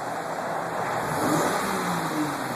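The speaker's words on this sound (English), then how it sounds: "So you don't even really hear this engine" A 2012 Dodge Charger engine hums steadily inside the cabin, rising slightly as it accelerates, with a constant road rumble and no talking.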